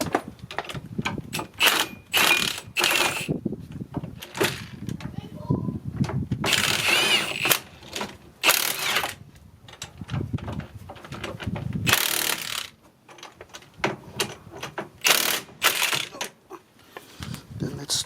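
A bolt is tightened on a 2008 Kia Sedona during a front brake pad replacement, with irregular metallic clicks and ratcheting clatter in close, busy bursts.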